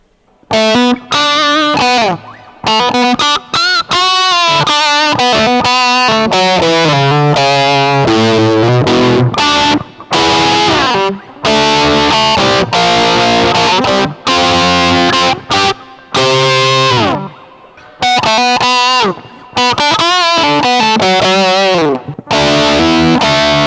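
An electric guitar played through an EHX Metal Muff Pocket distortion pedal rips through loud, heavily saturated lead phrases and sustained bends, nearly nonstop with only brief gaps between licks.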